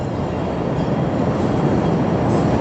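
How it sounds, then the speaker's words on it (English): A Midway-bound train on Chicago's rail line rumbles past nearby, a steady loud broadband roar of wheels on track that holds evenly throughout with no voices. "That would be the Midway train"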